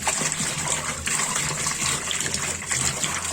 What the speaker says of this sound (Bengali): তেলাপিয়া মাছগুলো ধুয়ে নিচ্ছি দেখুন।